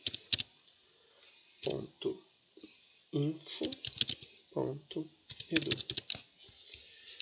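A DNS domain name is typed on a computer keyboard, with bursts of crisp key clicks in quick runs separated by pauses, close and clear, alternating with a person talking.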